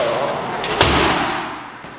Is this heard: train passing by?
no